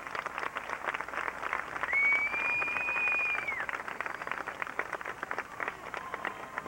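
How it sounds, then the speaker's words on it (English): Audience applause honouring senior members of an organization at a 1985 event: steady, moderately distant clapping throughout, with a sustained whistle-like tone rising above it for a second or two midway. "a great big round of applause"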